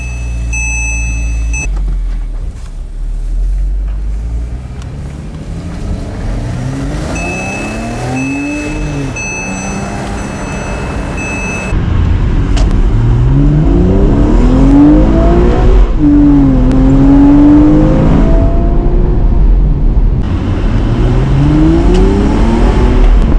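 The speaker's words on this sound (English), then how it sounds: "Let's take this thing on a drive." A Porsche Boxster S Black Edition engine revs and accelerates through several gear changes, pitch sweeping up and dropping repeatedly, loud and close from inside the car.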